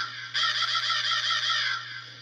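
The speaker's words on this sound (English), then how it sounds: "We could do the crow." A single loud, sustained crow caw, harsh and nasal, held for nearly two seconds over a low steady hum, with no voices.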